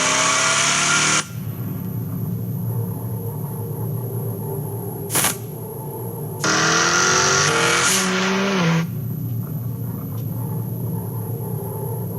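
A Jaguar F-Type sports car drives hard, its engine revving and dropping between bursts and its tires squealing in long skids, all loud and close as played back in a large room.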